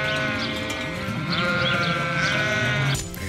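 Sheep on a large sheep farm in southern Ukraine bleating repeatedly over a dense, continuous flock murmur, several overlapping calls close by, with no talk.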